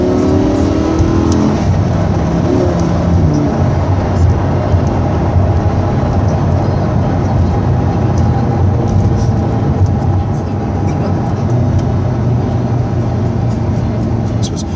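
Lamborghini Huracan sports car driving on the road, a loud, steady engine drone with road rumble heard from inside the cabin, continuous throughout with no talking.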